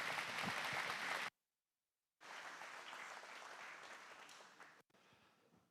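Audience applauding to welcome Spencer Beach at a plant safety meeting, a dense burst of clapping that stops abruptly, then resumes steadily for a few seconds before cutting off again.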